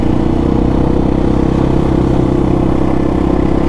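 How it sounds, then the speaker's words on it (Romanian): A 2023 GasGas 300 TPI two-stroke enduro motorcycle engine running in the mountains, a loud, steady close-up drone with rapid even pulsing and no change in pitch across the few seconds. "Foarte fain motorul, merge lin"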